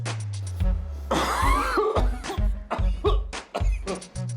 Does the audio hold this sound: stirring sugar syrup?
no